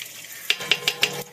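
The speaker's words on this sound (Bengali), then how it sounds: "তেল গরম হয়ে গেছে, দিয়ে দেবো অল্প পেঁয়াজ কুচি" Chopped onion frying in hot mustard oil in a wok on a gas stove, a steady faint sizzle broken by four or five sharp stirring scrapes at even intervals.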